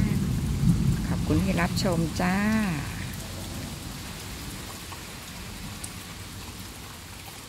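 Steady rainfall hisses evenly through the whole stretch, with a soft low rumble that could be distant thunder, while someone speaks briefly over it at the start before the rain continues alone.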